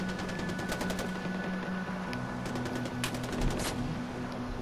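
Rapid automatic gunfire in the video game Far Cry 4, sustained bursts of shots rattling at close range with a few louder single reports, no voices.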